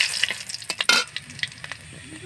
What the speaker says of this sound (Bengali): তেজপাতাটা দিয়ে দিলাম।